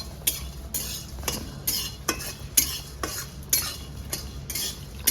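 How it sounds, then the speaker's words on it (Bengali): Fennel seeds fry in a pan for homemade amla chyawanprash, with a utensil scraping through them in regular strokes about once a second over a soft background sizzle. "মৌরিটাও ভেজে নেবো ভালো করে"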